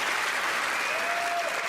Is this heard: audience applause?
yes